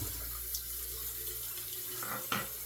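A Razorock safety razor with a non-pivoting standard head is rinsed under a running tap, giving a steady hiss of flowing water with a couple of brief splashy bursts near the end.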